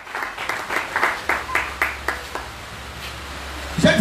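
A church congregation claps in a loose, fairly quick rhythm for several seconds, the claps fading toward the end, with a low steady hum beneath and a voice breaking in at the close.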